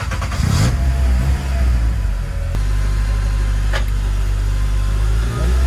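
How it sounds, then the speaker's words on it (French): VW Fun Cup race car with its engine running loud and close, a steady low rumble and drone with brief revving swells and a sharper burst near the start, and no one talking. "Allez, on est parti pour le premier tour de roue avec la VW Fun Cup."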